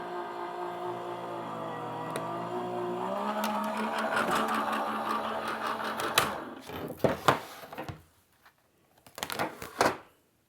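A Gemini die-cutting machine works through fabric curves with a sustained mechanical whir that rises in pitch, then breaks into several sharp clunks and rattles before falling quiet, all close by.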